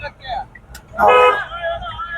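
A car horn sounds once in a brief steady toot amid light road traffic during a beginner driving lesson, with an instructor's voice around it.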